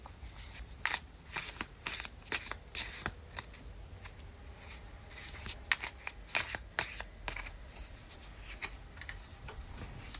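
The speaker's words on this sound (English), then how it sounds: "So I'm just going to give these cards another shuffle." A deck of oracle cards is shuffled up close, with quiet repeated riffling and flicking bursts and soft taps over about ten seconds, with no talking.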